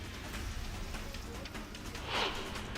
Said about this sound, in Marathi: शहराच्या विविध भागात तासभर मुसळधार पाऊस झाला।